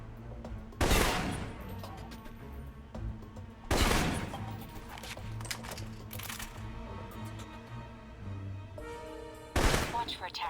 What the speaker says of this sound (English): For long-range encounters, the assault rifle's the key.